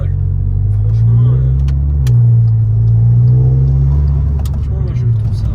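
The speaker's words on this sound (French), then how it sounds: "je pense avec le bruit de la voiture" A Volkswagen Golf 6 GTI hums with a deep, steady engine drone inside the cabin while driving, the low rumble swelling slightly, with people talking over it.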